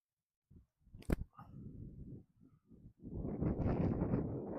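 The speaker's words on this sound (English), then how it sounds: "You might start to be able to hear the wind at this point." Gusty wind roars against the microphone in bursts on a disc golf course in Denmark, building to a sustained loud rush near the end, with a sharp click partway through.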